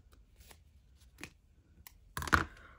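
Scissors snip glassine paper for faux washi tape: a few faint crisp crinkles and snips, then one louder, sharper cut near the end in a quiet room.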